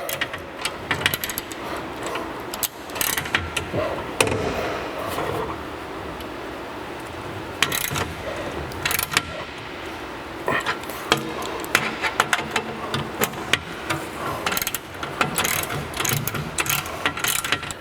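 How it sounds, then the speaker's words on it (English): A ratchet clicks in rapid bursts while tightening the clamp of hitch-mounted mud flaps, with pauses between runs of clicking and some talk in the background. "we're going to tighten up our clamp"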